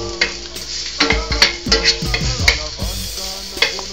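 Carrots frying in a little oil in a hot pan, a crackling sizzle broken by repeated sharp stirring and scraping clatters, close and fairly loud, no voices.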